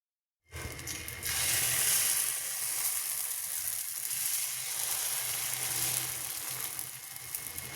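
Dosa batter hits a hot pan and sizzles steadily, a bright continuous crackling hiss starting abruptly after a moment of silence and holding loud and close throughout.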